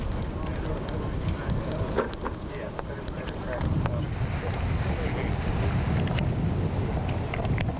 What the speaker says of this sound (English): The wind just comes up and goes down.